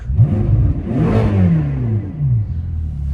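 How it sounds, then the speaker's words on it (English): A 2010 Ferrari California's naturally aspirated V8 revs up sharply and then falls back, its rising and falling engine note close and loud, with no talking. "Car has a naturally aspirated V8, which sounds amazing."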